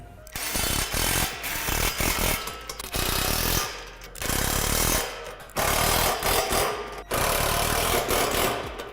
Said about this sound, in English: Now tighten up the hardware from the slide rail as well as the hardware from the previous step.